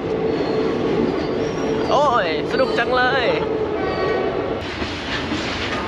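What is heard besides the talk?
train passing on railway tracks in India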